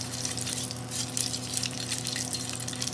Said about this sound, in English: I'm going to bring the hot saute pan to the counter. And what happens here, we get a little sear on it.